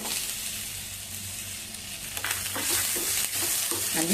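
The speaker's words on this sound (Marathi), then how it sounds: "छान परतवून घेऊया" Chopped onion and tomato sautéing in a hot pan, a close, continuous sizzle and crackle with soft spatula stirring scrapes breaking through in the second half.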